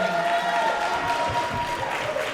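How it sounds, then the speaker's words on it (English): An audience applauds an honoree at a women's leadership awards ceremony, steady clapping and crowd noise filling the room throughout at an even level, with a faint voice underneath. "Let's give a round of applause for Ms. Belinda Charleston"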